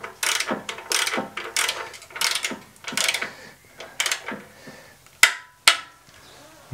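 Rapid clicking bursts from a ratchet wrench tightening screws on a Swardman Electra reel mower during a bottom blade replacement, several quick ratcheting runs followed by two sharp metallic clacks, close and alone.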